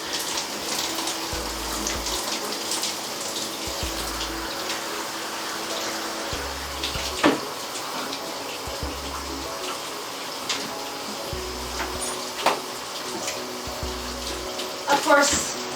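Shower water runs steadily in a bathroom while someone showers with a removable cast, a constant hiss with occasional splashes and knocks, under light background sounds.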